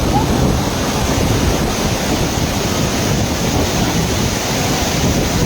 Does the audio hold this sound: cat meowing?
no